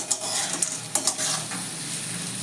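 Chopped vegetables and roasted peanuts fry in a pan for semolina upma, a steady sizzle broken by a few sharp scraping stirs early on and near the middle, then settling into even frying.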